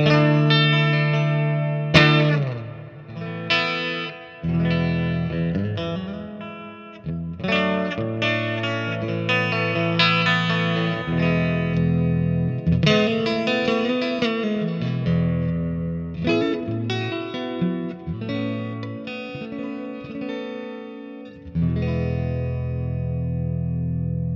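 Electric guitar played through a Wampler Reflection spring/plate-style reverb pedal turned all the way up to infinite reverb, chords and notes ringing into a dense, endlessly sustained wash that keeps building without decaying.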